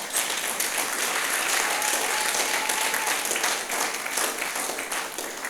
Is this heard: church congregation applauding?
yes